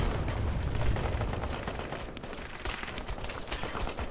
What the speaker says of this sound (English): These heavy machine gunners, I think these guys are on M60s